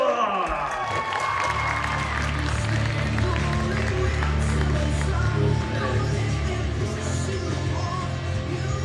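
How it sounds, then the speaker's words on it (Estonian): An audience at a youth final applauds and cheers as a team is called onto the stage, crowd noise mixed with clapping and whoops beneath loud, tonal stage music with a steady beat. "Julgelt vastu ja kutsume lavale aplausiga!"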